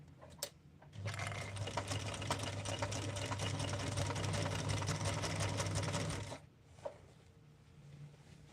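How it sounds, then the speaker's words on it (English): A sewing machine stitches pinned fabric for a bag, running in one steady close whirring burst of about five seconds, with quieter fabric handling before and after. "So we've pinned them all together now, and now we're going to sew"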